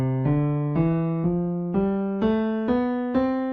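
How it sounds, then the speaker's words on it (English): A single melodic instrument plays an ascending Ionian (major) mode scale, do through high do, eight clear sustained notes stepping upward in an even rhythm, close and alone. "Ionian sounds like this"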